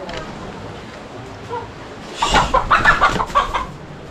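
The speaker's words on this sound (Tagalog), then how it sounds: "Yan, may nakapasok na manok." Native hens cluck in a short burst of throaty calls close by, rising out of a quiet background.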